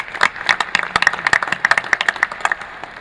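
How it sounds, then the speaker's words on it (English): Audience in a city committee meeting room claps for the city manager, a brisk burst of scattered, uneven hand claps lasting a few seconds and tapering slightly at the end. "So let's give Troy a round of applause"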